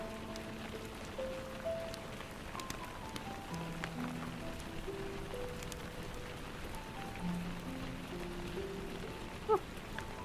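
Steady rain falls on a surface outdoors, a continuous dense patter with faint tonal sounds drifting over it and no speech.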